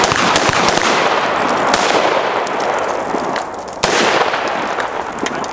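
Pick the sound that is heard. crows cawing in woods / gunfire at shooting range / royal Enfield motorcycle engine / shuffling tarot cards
gunfire at shooting range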